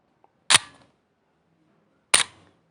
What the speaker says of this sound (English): So this would be the sound of a slow shutter.